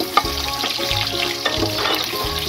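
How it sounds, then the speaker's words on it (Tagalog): Carrots and potatoes fry together in hot oil on a stove, giving a steady crackling sizzle with occasional stirring clinks, close and moderately loud, with no talking. "Isabay ko na lang sila sa patatas na ipaprito"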